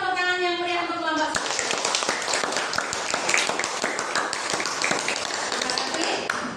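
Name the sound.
applause for group 1 after presentation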